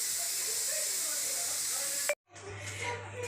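Vegetables sizzle in hot oil after tempering with cumin in a home kitchen, a steady bright hiss that cuts out abruptly and returns softer with a low hum and faint voices nearby.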